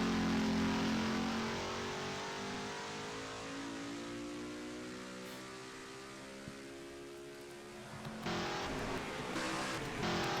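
Race cars roaring and shifting in a sim racing game at the Wisconsin Grand Prix, engine pitch sweeping steadily as a car passes, with another car's engine rising near the end; no one speaks.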